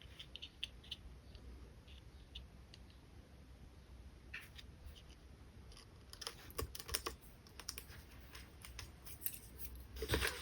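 Scissors snipping through paper while an invitation card is made, a quiet run of small crisp cuts that grows busier and closer toward the end.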